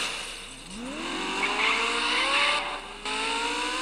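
A Lamborghini in the Gangstar Vegas video game slides sideways like a rally car, its engine note climbing steadily with a squealing, skidding tire hiss, loud and continuous throughout.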